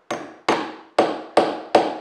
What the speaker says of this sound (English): give it a whack. If you notice, I'm using a steel hammer.